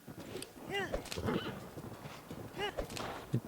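A horse in Zelda: Breath of the Wild whinnies twice, with clip-clopping hooves between the calls, over busy game ambience and faint background sound.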